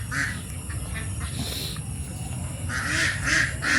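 Ducks quack in Bicol, Philippines, several nasal calls in short bursts nearby over a low outdoor background.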